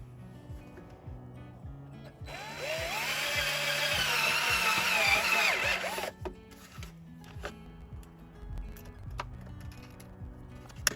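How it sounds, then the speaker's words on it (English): A power drill whines steadily for a few seconds, rising in pitch as it bites into the dashboard of a 2022 Mahindra tractor, then stops, followed by scattered clicks and handling noises. "I'm about to drill a hole in the dashboard of my 2022 Mahindra tractor."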